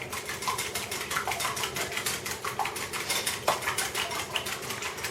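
An egg is beaten lightly in a bowl with a hand whisk while brioche buns are being made, giving a steady run of quick, close metallic taps and clinks against the bowl.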